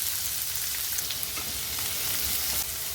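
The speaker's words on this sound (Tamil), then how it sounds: "இதெல்லாம் பொரிஞ்சதுக்கப்புறம் ஒரு பெரிய வெங்காயம் சேர்த்துக்கிறேன்" Onion frying in hot oil with urad dal, cumin and mustard seeds, a steady close hiss and crackle of sizzling with faint stirring.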